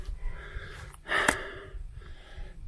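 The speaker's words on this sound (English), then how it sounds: "we're both panting today" Hikers panting on a steep climb along the Pennine Way: close, breathy gasps with one stronger sharp inhale-exhale in the middle, heard alone without talk.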